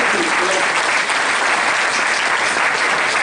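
Dense, loud clapping from a crowd fills a hall at a political rally for Veneto independence in Scorzè, holding steady and unbroken throughout.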